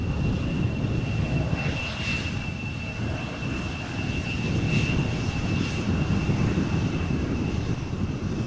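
A KLM Embraer 175 jet airliner arriving at Amsterdam Schiphol makes a steady, fairly loud engine roar with a high whine on top, heard outdoors with no talking.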